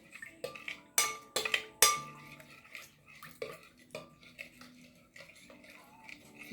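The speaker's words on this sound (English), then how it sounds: "So what I do is I just mix my starter in like that." Sourdough starter being stirred in a jar: a few sharp clinks of a utensil against the glass, then softer scraping and stirring sounds, close and fairly quiet, with no talking.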